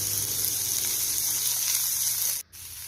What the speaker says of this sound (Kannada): ಅದಕ್ಕೀಗ ಸ್ವಲ್ಪ ಕಟ್ ಮಾಡಿ ಇಟ್ಕೊಂಡಿರುವಂಥ ಈರುಳ್ಳಿಯನ್ನು ಹಾಕಿ ಒಂದೆರಡು ನಿಮಿಷ ಫ್ರೈ ಮಾಡಬೇಕು.